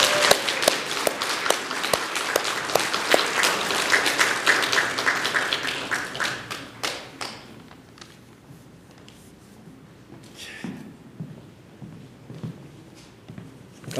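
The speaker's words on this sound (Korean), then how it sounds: "뜨겁게 박수로 맞이해 주시기 바랍니다." Warm audience applause at a literary magazine launch event in Korea, loud dense clapping for several seconds that fades out halfway, leaving quiet room noise and faint scattered sounds.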